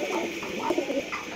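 Pigeons from a bird trapper's stock, offered in pairs, coo in low, soft, rolling phrases that come close together, with a steady background hiss and no speech.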